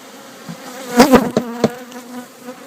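Honeybees buzz close by in a dense drone during queen rearing work at the hive, with a few sharp knocks and thumps partway through.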